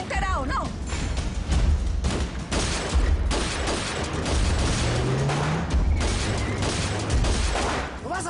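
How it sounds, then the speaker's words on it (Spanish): A shootout, with rapid gunfire and heavy thuds in a dense, continuous barrage that sounds close and loud throughout, with shouting voices mixed in. "¡Agáchese, que no ve que nos están disparando!"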